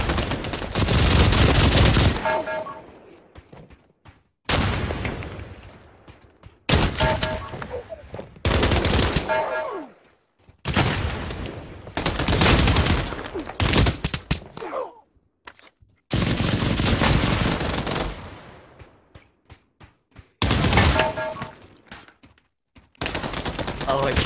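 An MG34 machine gun in the video game Pavlov fires in loud, close bursts of rapid automatic fire, several sustained volleys separated by short silences.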